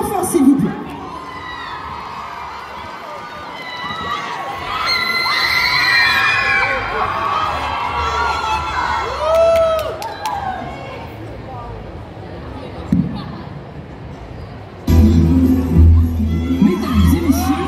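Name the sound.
audience cheering and applauding Arlecchino cosplayer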